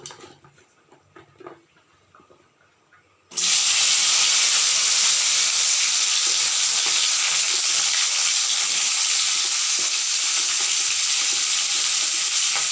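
Sliced okra tipped into hot mustard oil sets off a sudden loud, steady sizzle and hiss that carries on unbroken after a quiet start.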